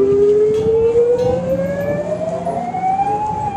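A toy ambulance's wailing siren glides steadily upward in pitch, loud and close, sounding alone without any voices.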